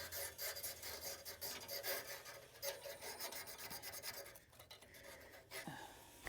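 Sandpaper rubbed by hand over a fireplace surface, a close, quiet, rasping scratch in uneven back-and-forth strokes with brief pauses, alone without speech.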